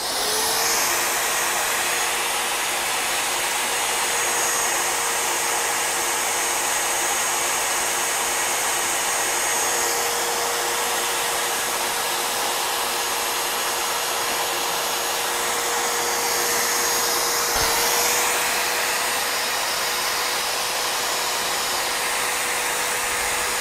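Drill press boring into steel with cutting oil running, a steady loud whine and hum that holds without a break from start to finish, close up, with no voices.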